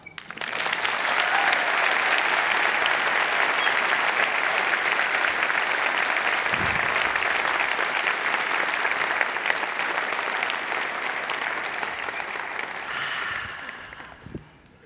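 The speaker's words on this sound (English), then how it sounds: "Now we may applaud." An audience in a church claps for a Sikh service. The applause swells quickly, holds as a dense, steady roar of clapping for over ten seconds, then thins out and fades.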